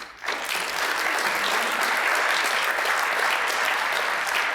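An audience breaks into sustained, dense applause to welcome a speaker at a portrait unveiling, the clapping rising quickly and holding steady and loud throughout.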